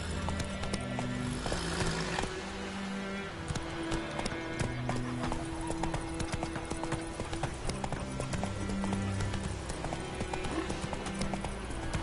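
Horse hooves clip-clopping in the Roblox Piggy video game, a steady rhythmic trotting beat running throughout over game music, with occasional whinnies.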